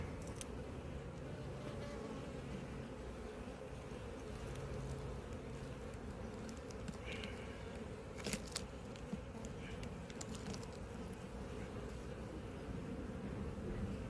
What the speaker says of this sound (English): the bees from the other colonies have found it now